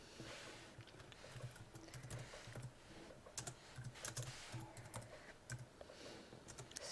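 Quiet, rapid keystrokes patter continuously on a computer keyboard as text is typed, close by and alone without talk.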